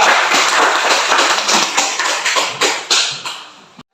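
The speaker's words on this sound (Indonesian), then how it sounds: "Berikan aplaus kepada kelompok 2." Classroom audience clapping after a group presentation, a loud, dense burst of applause from a group of people, close by and tapering off after about four seconds.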